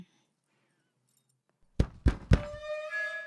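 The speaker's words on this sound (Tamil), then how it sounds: "உள்ள இருக்குது தெரியாம கதவை சாத்திட்டம்மா" After near silence, three heavy thumps land in quick succession, then a ringing metallic tone lingers as they fade.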